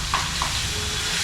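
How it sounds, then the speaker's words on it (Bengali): Mutton sizzles steadily in a hot pan during home cooking, a continuous close hiss with a couple of brief soft clinks near the start and no talk. "এদিকে জোর কদমে সবাই মিলে মটন রান্না চলছে।"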